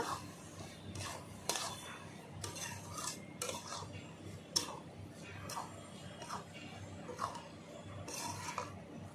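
A spoon scrapes and clinks in a pan while stirring cabbage and prawn curry mixed with dry-roasted ground coriander, cumin and whole garam masala, making irregular close scrapes and taps with faint talk in the background.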